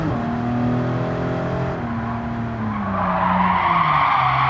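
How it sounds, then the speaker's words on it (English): Tires of a Porsche 911 Carrera RS (964) skid and squeal through a corner in Gran Turismo 7, a loud sustained screech over the engine's falling drone, swelling again toward the end. "that was me skidding"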